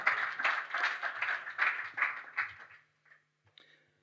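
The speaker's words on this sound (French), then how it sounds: "on peut l'applaudir aussi" An audience at a talk applauding a speaker, a brisk wash of clapping that fades out over a few seconds, leaving a couple of faint isolated claps.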